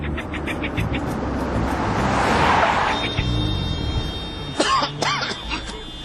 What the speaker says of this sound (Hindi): इतना ट्रैफिक